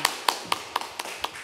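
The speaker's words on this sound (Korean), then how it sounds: "감사의 박수 한번 크게 한번 부탁드리겠습니다" Forum audience at a civic self-governance event clapping, heard as a sparse, evenly spaced series of about seven sharp claps, close and fairly loud rather than a full crowd.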